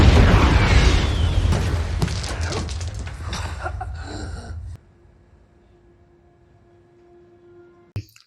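A bomb blast detonated right in front of a man's face in the action film Nobody: a loud, dense roaring burst that rumbles and crackles for several seconds, then cuts to near silence broken by one short thump.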